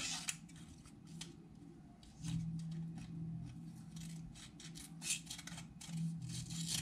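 Scissors trim a piece of paper in a series of close, crisp snips and scrapes. The cuts come in an irregular rhythm, faint overall, with no talk.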